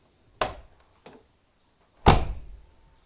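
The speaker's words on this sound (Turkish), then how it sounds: "Bu şekilde kapı açılma sesi." A Tofaş car door opens with a latch click, a faint second click, then a solid, louder thunk that rings out briefly, close and with no talking.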